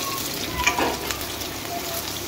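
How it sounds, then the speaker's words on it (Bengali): Whole cumin seeds fry in hot oil in a wok, giving a steady close sizzle with a brief louder crackle near the start and no talking. "তেল গরম হলে এর মধ্যে দিয়ে দেবো ফোড়নে গোটা জিরে।"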